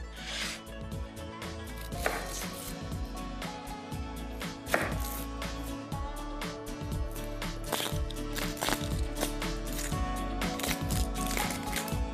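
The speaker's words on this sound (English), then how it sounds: "I will cut the onion very thin" A knife slices an onion very thin on a board, producing a quick, steady run of close, crisp chopping taps with no talking.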